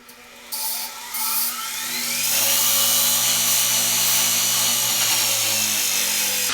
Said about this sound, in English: I'm going to just step over to the grinder here for a second. I'm going to put a quick grind on here.